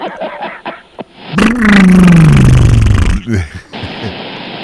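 A voice on a live CB radio broadcast imitates the Jetsons cartoon car, with a loud sustained whirring, descending vocal drone lasting a couple of seconds, set between bits of talk.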